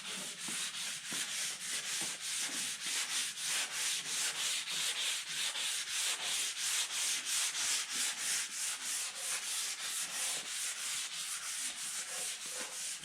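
Close, continuous rhythmic block sanding on the fenders of a 1952 Ford F1 truck during prep for paint, with fast back-and-forth rasping strokes and no talking.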